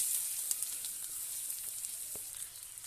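Onion sizzling in hot oil after frying rui fish, with bay leaf and five-spice for a curry, a bright hissing sizzle held steady and close, with faint clicks and no speech.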